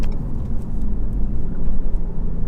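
A Renault Megane Trophy 300 engine rumbles low and steady from inside the cabin, with burbling overrun pops and crackles under the drone.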